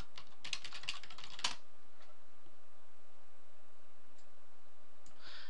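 A quick burst of typing on a computer keyboard, about a second of rapid clicks, then a quiet room hum with a few faint clicks.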